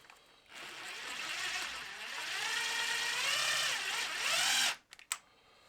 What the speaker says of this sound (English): now we're pumping oil in the motor